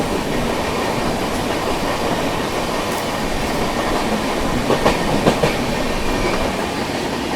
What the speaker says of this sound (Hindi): यहाँ पर अपनी क्रॉसिंग होती हुई एमजीआर चेन्नई सेंट्रल नई दिल्ली तमिलनाडु सुपरफास्ट एक्सप्रेस के साथ